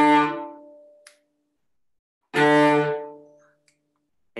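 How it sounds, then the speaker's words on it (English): Bowed string instrument with the bow drawn quickly from tip to frog, producing two short, bright, separated strokes with a pause between them, close and alone. "So you just want to move the bow really fast."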